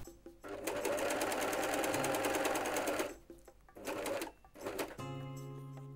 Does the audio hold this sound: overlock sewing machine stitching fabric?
yes